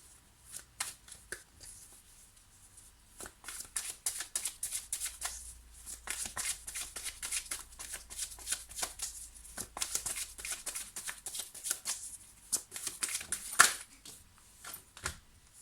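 Tarot cards shuffled by hand during a love reading, a long run of crisp riffling and slapping bursts in irregular rhythm, close and clear with brief pauses between bursts, no talking.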